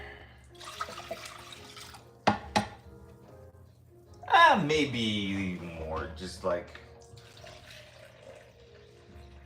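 Water pours into a container to make a vinegar pickling brine for daikon, a splashing run that swells and fades over several seconds, with a person talking over it.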